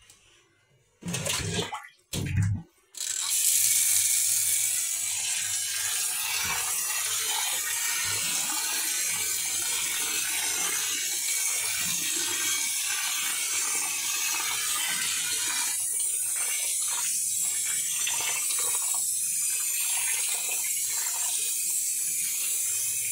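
Tap water runs steadily into a sink while tilapia fish is rinsed, a few short bursts at first, then a continuous close splashing rush with faint handling noises underneath.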